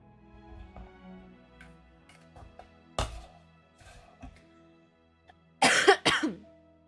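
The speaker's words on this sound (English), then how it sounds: "Cough." A pair of loud, sharp coughs near the end, preceded by a single smaller cough and faint rustling in an otherwise quiet room.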